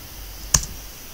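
A single sharp key click on a computer keyboard while typing a web address, brief and close, in a quiet room.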